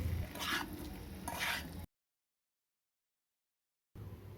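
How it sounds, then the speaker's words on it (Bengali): Boiled, diced potatoes are stirred and fried in spice paste for a Bengali egg curry. Faint sizzling runs under soft, repeated scraping strokes, then cuts out to silence before the frying returns briefly. "আলুগুলো দিয়ে মশলার সঙ্গে আলুগুলোকে ভালো করে কষে নিলাম"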